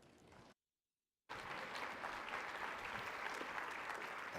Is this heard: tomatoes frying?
no